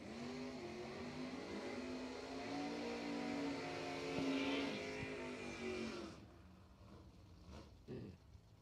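A drag racing Camaro pulls hard down the strip at a spring race event, its engine note climbing loud and sustained for several seconds before cutting off abruptly, with a track announcer talking over it.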